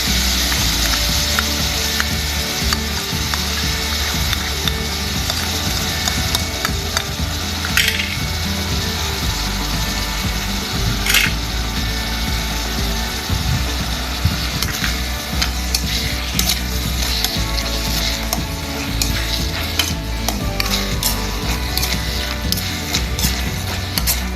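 Chicken and seasonings with a splash of water stir-frying in a pan for a Thai oyster sauce dish: continuous sizzling with steady, rhythmic scraping and clattering of a spatula against the pan, close and fairly loud.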